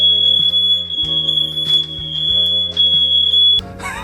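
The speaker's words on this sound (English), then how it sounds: "I just set off the smoke detectors in the house." House smoke detectors set off by haze from a smoke machine, a loud piercing continuous high-pitched alarm tone blaring steadily for several seconds, close by, before cutting off abruptly.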